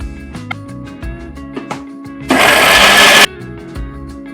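A mixer grinder whirs loudly for about a second, grinding roasted red chilies, curry leaves and tamarind into a South Indian podi masala, set against background music with a steady, dense roar that stops abruptly.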